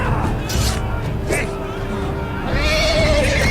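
A horse neighs in the Game of Thrones: Iron From Ice video game, a shrill whinny rising over busy in-game clamour while voices talk throughout.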